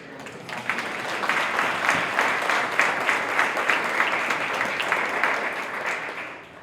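Sustained audience applause at a Juneteenth inclusive equity gala, a dense, even roar of many hands clapping that swells in and holds for several seconds before easing at the end.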